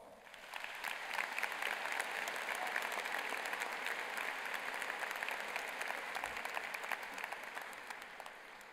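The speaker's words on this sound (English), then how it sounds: "let's please give them a round of applause" Audience applause for a band and choir at a 2015 high school commencement ceremony, a broad steady wash of many hands clapping in a large hall, moderately distant and sustained throughout.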